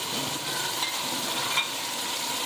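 Chopped tomatoes frying in a pan with garlic ginger paste for a chana dal with bitter gourd, giving a steady, even sizzle with light stirring throughout.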